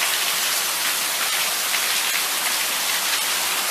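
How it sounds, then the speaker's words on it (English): Heavy rain pours steadily during a thunderstorm at the Typhoon Lagoon water park in Florida, a dense, even hiss of drops hitting surfaces nearby without pause, heard alone with no voices. "There's a fucking thunderstorm happening right now, anyway."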